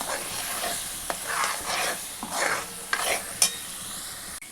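Masala for chole sizzles in a hot pan as a spoon stirs it in repeated sweeping strokes, each pass bringing a swell of hissing frying, with a few sharp scrapes and clinks, close and without talk.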